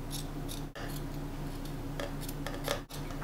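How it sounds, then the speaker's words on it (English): Scissors cutting through a sweatshirt give a few soft, scattered snips over a steady low room hum. "I'm just going to use a ruler to trace it out and then cut it"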